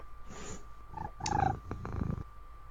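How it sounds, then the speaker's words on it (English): A house cat gives a close, rumbling purr with a short, throaty vocal flourish in the middle, and no one talks over it. "It's a kitty."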